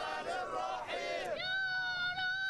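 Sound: crowds in Cairo streets shouting and celebrating

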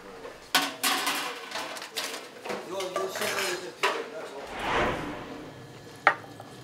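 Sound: cutlery and dishes in a staff cafeteria at lunchtime

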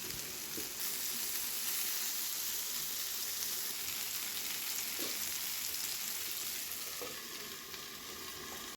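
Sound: tandoori chicken sizzling in a pan

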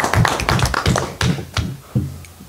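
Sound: applause at a council meeting

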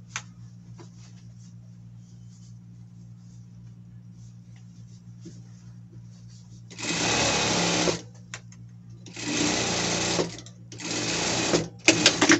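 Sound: sewing machine stitching a seam on a costume

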